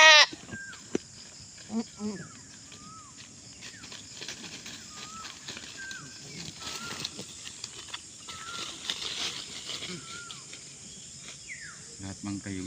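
Goats on a farm bleat repeatedly in short, scattered calls over a soft background of chirping crickets, moderately close and mostly alone.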